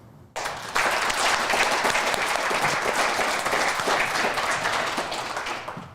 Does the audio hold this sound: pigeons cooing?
no